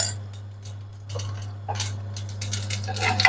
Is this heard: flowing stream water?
no